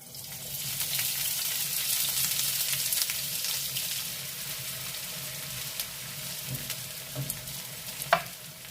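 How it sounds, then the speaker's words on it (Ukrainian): A spoon stirs a pot of sunny summer soup made with very fine corn grits and onion. The scraping and swishing run steadily over a soft sizzle and bubbling, then fade slightly, ending with a sharp clink. "Не забуваємо помішувати суп, щоб в нас крупа не пристала до дна"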